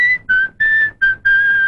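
A man whistles a tune in five short, clear, high-pitched bursts with brief gaps between them, loud and close, with no talking over it.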